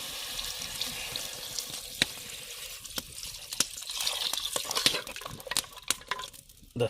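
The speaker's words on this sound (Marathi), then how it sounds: "आता आपण ह्याच्यामध्ये पाणी ॲड करूया" Water is poured into a pot of oil-sautéed goat legs for soup, a splashing, gurgling pour mixed with clinks and stirring knocks, close by and without voices.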